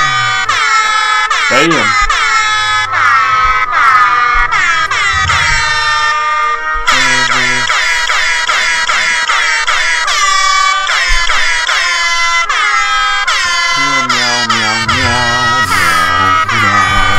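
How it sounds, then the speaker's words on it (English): Loud, repeated air horn blasts, harmonic tones sounding in long bursts and short stabs almost continuously from start to finish, with a brief exclamation from a voice in between. "An air horn noise."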